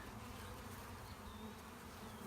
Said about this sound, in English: There's a lot flying around.